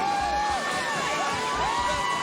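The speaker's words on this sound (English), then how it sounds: "It's the Georgia fans making noise now" Georgia Bulldogs fans at the Sugar Bowl against Baylor, a dense, steady roar of crowd cheering and whooping heard from a distance, with whistling tones over the top.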